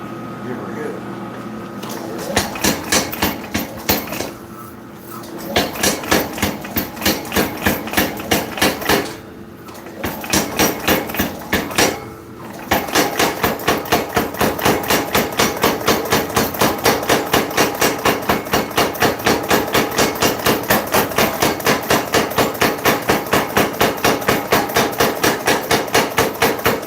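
A power hammer pounds hot steel while bolt jaw tongs are forged, striking in fast, even, very loud bursts with short pauses between, then running continuously.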